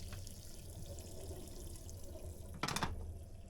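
Water from a wash basin tap aboard a luxury overnight sleeper train, a short faint splash of running water rising briefly over a steady rumbling train background.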